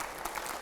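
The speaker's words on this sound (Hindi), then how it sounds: "जोरदार तालियां उसके ऊपर।" Applause from a studio audience on a Hindi TV news debate show with a BJP MP, a short, steady burst of clapping heard alone.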